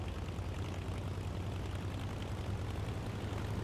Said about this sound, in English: Continue warming up the engine at this speed until the oil temperature reaches 50 degrees Celsius